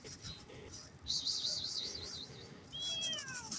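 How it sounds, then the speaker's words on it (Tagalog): A cat gives a wavering meow and then a short rising mew, close and moderately loud, over faint room noise. "andito na naman tayo sa ating mga miming"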